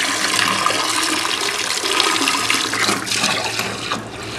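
A 1963 Briggs toilet flushes and refills with a loud, continuous rush of water close up that churns steadily throughout.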